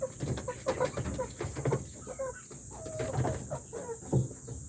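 Native chickens crossbred with Rhode Island Reds cluck and call close by in a farm setting, with overlapping soft clucks and brief squawks throughout, one bird standing out more loudly near the end.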